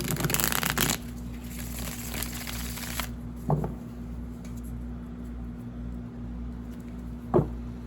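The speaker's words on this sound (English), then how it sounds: "So go ahead and give it a good shuffle here." A Rider-Waite tarot deck gets shuffled, with dense papery riffling for the first three seconds, then quieter handling and a couple of isolated card snaps over a faint steady hum.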